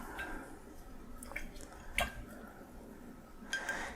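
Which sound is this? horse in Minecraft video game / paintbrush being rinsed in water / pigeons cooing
paintbrush being rinsed in water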